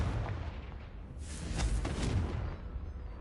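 A Confringo fire spell explodes in the game Hogwarts Legacy, a deep rumbling boom that swells in the middle with a burst of crackling debris and then fades, no speech.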